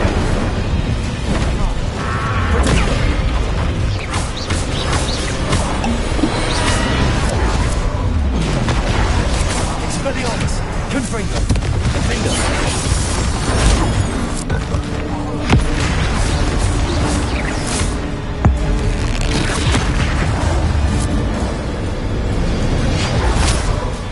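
Expelliarmus and Incendio spells cast in Hogwarts Legacy, dense bursts, pops and booming impacts layered over busy game sound throughout, with a voice speaking between the effects.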